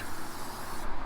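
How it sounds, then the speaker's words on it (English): A garden water hose sprays down an old rusty barbecue grill and smoker outdoors, a steady, loud, close hiss of water that runs without a break. "We'll get the water hose on it."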